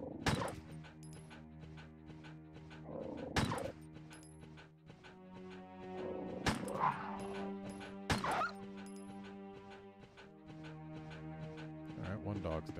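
Dogs in the PlayStation Resident Evil game barking, yipping and whimpering in sharp bursts amid game sound effects, with someone talking over them.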